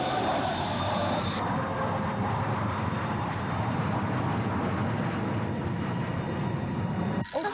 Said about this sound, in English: This plane is going to crash.